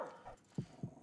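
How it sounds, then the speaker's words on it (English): A dog in the video game As Dusk Falls gives two short, low, muffled bark-like sounds about a quarter second apart, over a quiet background hum. "Keep that dog quiet."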